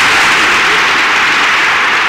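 Loud, steady audience applause for Luis Amadaterán, a dense wash of clapping filling the whole moment without pause.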